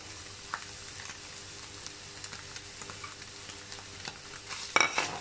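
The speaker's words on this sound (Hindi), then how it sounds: "फ्लेम मीडियम टू हाई पर अब हम लोगों ने वेजिटेबल को फ्राई करना है" Chicken and chopped capsicum fry in a pan over a medium-high flame, giving a steady close sizzling hiss with light scrapes of stirring and a brief clatter near the end, with no talking.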